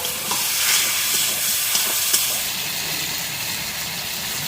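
Ginger paste and turmeric frying in a little oil in a rural village kitchen, a steady close sizzle with occasional stirring scrapes, no talking.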